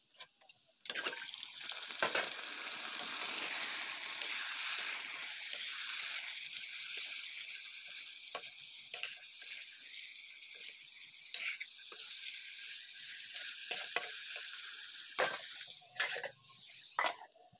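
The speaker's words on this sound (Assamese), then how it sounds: "পিঁয়াজৰ লগতে মই এতিয়া এই খাচী তেল কেইপিচমানো দি পেলাই দি দিওঁ, তাৰপিছতে ভাজি দিওঁ" Chopped onions frying with pieces of goat fat in a pan for mutton curry, a continuous close sizzle with occasional sharp utensil scrapes and knocks.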